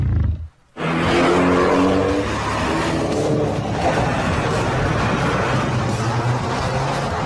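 A Mini John Cooper Works coupe with a 1.6-litre, 208-horsepower engine accelerates hard. After a short gap, a loud, continuous engine roar builds and holds close by.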